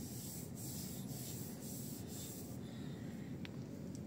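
A hand rubs back and forth over the soft, stitched steering wheel of an AION Y Plus, giving a close, quiet, steady scuffing hiss with faint rhythmic strokes.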